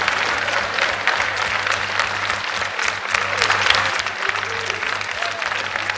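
A conference crowd at the Festival Big Bang 2019 keeps up steady, dense applause for the full stretch, an even wash of many hands clapping with a low hum beneath it.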